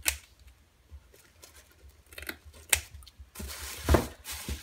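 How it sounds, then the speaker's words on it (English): Scissors snip ribbon several times at close range, short crisp cuts with rustling between them, growing busier toward the end. "So I'm just gonna come in with the scissors again and cut the little white part out."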